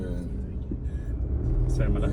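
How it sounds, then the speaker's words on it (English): A car driving through a city center carries a steady low engine and road rumble from inside the cabin, with traffic noise swelling slightly toward the end as people talk. "So we're just driving around"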